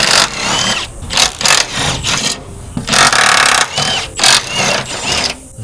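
A power tool buzzes in repeated short bursts while loosening the subframe bolts on an MK8 Golf R, loud and close, with brief pauses between pulls.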